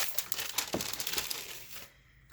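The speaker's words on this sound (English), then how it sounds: "So I'm just going to cut it out real quick" Scissors cutting out a paper card tag made from a playing card, with a quick series of close crisp snips and paper crinkles that stop near the end, leaving quiet, with no talk.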